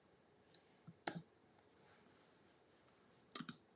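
A few sharp plastic key clicks, a single tap then a quick double and a later pair, close and crisp against near silence.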